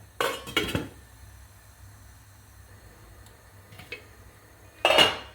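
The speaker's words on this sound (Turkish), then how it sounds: "Ağzını kapatacağım." A lid clinks down onto a pan of olive-oil braised pumpkin (sinkonta), with a couple of sharp metallic clatters at the start, a faint tap midway, and another brief rattle at the end, close and fairly loud against quiet kitchen background.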